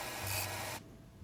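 Shingle material sanded on a belt sander in a workshop, a steady abrasive rasp over a motor hum that cuts off abruptly partway through, leaving only a low drone.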